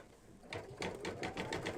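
An embroidery machine stitches a mug rug, starting up after a half-second lull into a rapid, rhythmic chatter of needle strokes that pulse evenly and closely, with no talking.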